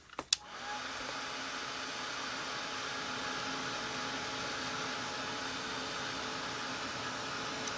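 A hair dryer runs steadily and loudly for several seconds, drying paint on fabric after a brief click of switching on; no speech.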